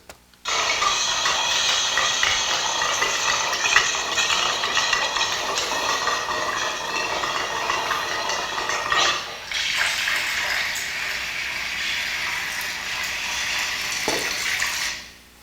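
Water runs steadily in a recording, a loud broadband hiss much like heavy rain that continues for about fifteen seconds with one brief dip partway through.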